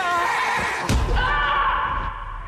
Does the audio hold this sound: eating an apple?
no